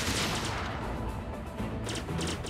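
Rapid weapon fire in Star Fox Zero, a continuous crackling barrage of shots with booming low rumble underneath, steady and moderately loud with short bursts standing out near the end.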